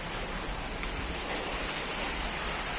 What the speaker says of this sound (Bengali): আর এখন দেখো এমন বৃষ্টি হচ্ছে যে ঘর থেকে বের হওয়া মুশকিল